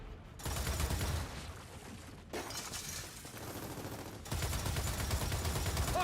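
Heavy machine gun fire in Gears of War 4, a dense, sustained roar of rapid shots with crashing, shattering debris layered on top, continuous and loud throughout.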